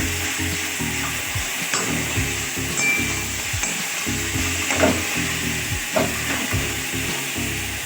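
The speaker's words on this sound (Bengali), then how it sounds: "এবার একটু নেড়ে নেব" Taro paste mixture being stirred in a frying pan: a constant sizzle with repeated scraping strokes of the spatula and occasional knocks against the pan, close and fairly loud.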